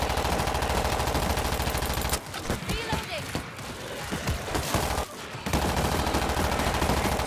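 Rapid SMG gunfire in the zombie shooter World War Z: Aftermath, loud sustained bursts with a pause in the middle, then more continuous firing, alongside game sounds.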